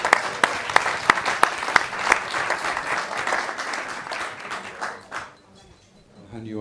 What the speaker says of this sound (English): We'll give a round of applause for all those videos.